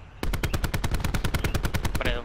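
Rapid automatic gunfire from a zombie-shooter video game, a steady burst of about twenty loud close shots over roughly two seconds, with faint voice chatter in the background.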